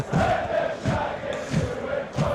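Rugby crowd at a university quarter-final match chanting in rhythmic swells, led by a fan conducting them from beside the stand, with roughly four loud surges over a steady roar.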